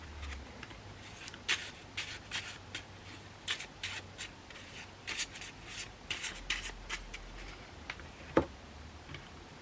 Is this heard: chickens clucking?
no